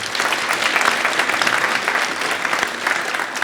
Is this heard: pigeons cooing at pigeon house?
no